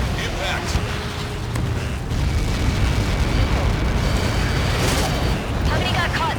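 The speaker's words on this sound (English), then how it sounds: "How many got caught in that explosion?" A missile impact in the Ace Combat 7 video game, delivered by Helios projectiles, sets off a sustained, loud rumbling blast that roars on for several seconds with crackling bursts, while radio chatter plays over it.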